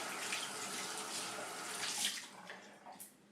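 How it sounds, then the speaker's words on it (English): Tap water runs to wet a shaving brush, a soft, continuous splashing stream with light spattering near the end, close and fairly quiet with no talk. "grab my shaving brush, get it wet"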